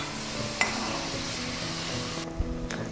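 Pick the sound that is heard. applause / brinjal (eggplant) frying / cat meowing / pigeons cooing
brinjal (eggplant) frying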